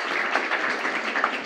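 An audience at a conference on logistics for the African free trade area breaks into a brief, dense burst of applause. The many overlapping claps are close and steady, with no talking over them.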